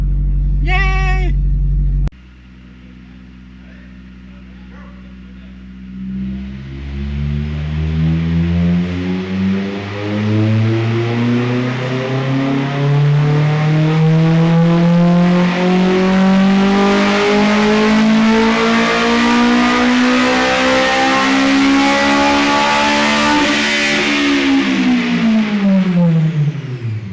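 A car engine revs hard on a dyno, climbing steadily in pitch for about twenty seconds to a loud peak and then easing off, after a brief burst of voice at the start.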